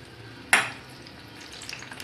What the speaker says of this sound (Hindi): इसे हम तेल में इस तरह से डाल देंगे।